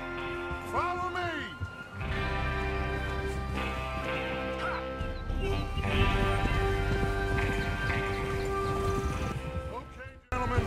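Horses ridden by a gang in Red Dead Redemption 2, with game hoofbeats and clip-clop plus a whinny over a music score, steady throughout, with talk mixed in.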